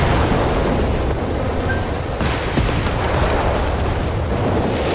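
In Company of Heroes 3, a Nebelwerfer artillery barrage sends a dense, loud roll of explosions and booming impacts that overlap continuously with scattered gunfire. The battle din stays thick throughout.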